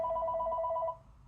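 A telephone rings with a single steady electronic tone lasting just under a second, loud and close, then stops, leaving faint room noise.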